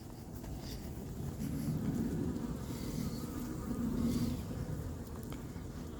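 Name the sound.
honeybees returning to the hive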